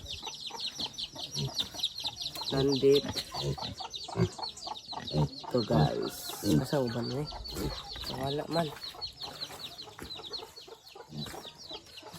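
Chickens and a rooster clucking steadily in a farmyard pen, close and continuous, with people talking intermittently over them.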